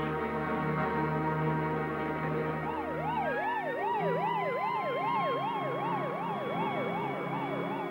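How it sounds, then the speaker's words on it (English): An ambulance siren wails in a rising-falling pattern, loud and close, over a low engine drone, with an earlier steady tone giving way to the sweeping wail. "As the ambulance rushed off to the hospital"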